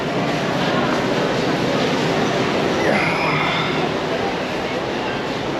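A local train runs from Dhaka to Narayanganj with a steady, close, rushing rumble of wheels and carriages, a faint squeal rising briefly in the middle.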